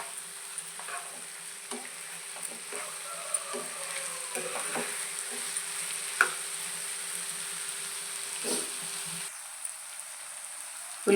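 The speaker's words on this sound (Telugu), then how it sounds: "ఫస్ట్ ఆయిల్ వేసేసుకుని ఉల్లిపాయలు పచ్చిమిరపకాయలు వేసుకొని బాగా ఫ్రై చేసుకోవాలి." Onions and green chillies fry in oil for a brinjal and egg fry, a soft steady sizzle with intermittent stirring scrapes and light clicks, fairly quiet and close.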